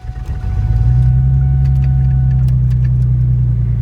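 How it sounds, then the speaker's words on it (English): A Ford Mustang with a power steering leak cranks and fires up, then settles into a loud, close, steady low idle rumble with no talk over it. "let's start up and I'm gonna go for a drive"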